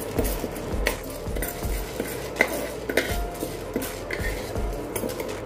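Lentils dry-roasting in a pan for Kerala sambar powder, with a steady scrape and clatter of a spatula against the metal pan, close and moderately loud, with no voices.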